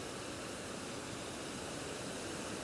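Rapids at Saint-Anne Waterfall rush with a loud, unbroken roar of churning water, heard up close and alone.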